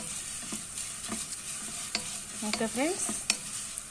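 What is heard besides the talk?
vermicelli frying in a pan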